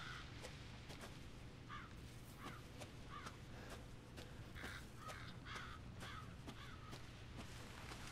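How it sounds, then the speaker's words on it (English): Crows caw repeatedly in the survival horror game Resident Evil 7, several harsh calls spread through the scene over a steady low ambient hum. "Hello, birds."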